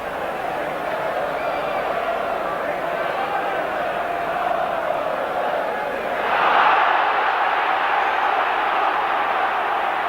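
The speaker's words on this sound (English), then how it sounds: "The crowd on the far side reacted to the tackle" A large football crowd murmurs steadily at the 1991 FA Cup semi-final between West Ham and Nottingham Forest, then swells into a louder roar of reaction to a tackle about two-thirds of the way through.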